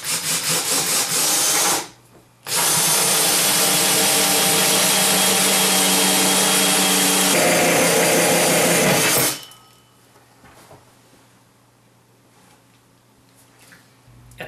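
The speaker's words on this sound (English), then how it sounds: "now I'll go for the hole saw." A hole saw on a power drill cutting into a Danby compact refrigerator through its outer plastic, wood and metal, a loud close grinding whine that stops briefly, runs again for several seconds, then cuts out to quiet.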